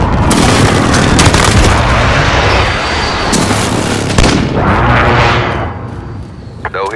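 Artillery strike explosions in Call of Duty Modern Warfare rumble through a dense barrage of booms and blasts, loud and sustained, with a few sharp gunfire-like cracks, heavy impacts near the middle and a fading tail.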